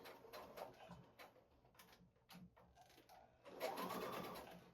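Home sewing machine stitching fabric for a clip holder, quiet and close, in short stop-start bursts of rapid ticking, ending with a longer continuous run.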